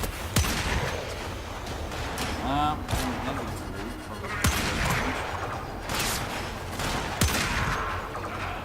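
Rapid gunfire bursts from the Warframe video game crack out sharply and loudly in repeated volleys, with a voice talking faintly underneath the shooting.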